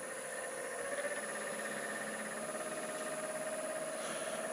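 A lathe running at about 1000 RPM during a melamine lacquer finishing job, a steady even motor whine and hum that holds without change, moderately quiet and with no talking.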